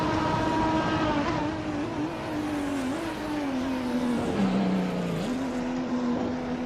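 A 2004 Porsche Carrera GT race car's engine in a racing video game holds a steady high drone that dips and recovers with gear changes, loud and continuous, with no talk.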